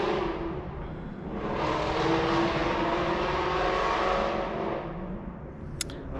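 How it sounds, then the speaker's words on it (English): Ford Mustang fitted with a loud aftermarket exhaust driving past, a rough engine roar that swells over a few seconds and then fades as it moves away, heard from some distance outdoors. "Somebody's got some crappy loud exhaust on their Mustang"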